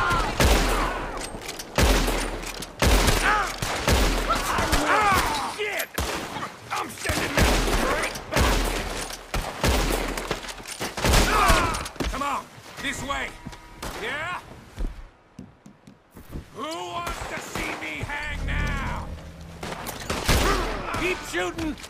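A shootout in the video game Red Dead Redemption 2 fills the scene with rapid volleys of gunshots, sharp cracks in bursts separated by short gaps, mixed with shouted dialogue between characters.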